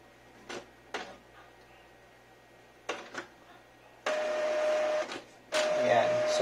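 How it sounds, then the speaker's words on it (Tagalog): An Epson L3110 inkjet printer starts its configuration with a series of short mechanical clicks and whirs, then steady electronic tones, fairly close and moderately loud. "ipipress natin tong button na to para mag-start yung configuration ng printer natin"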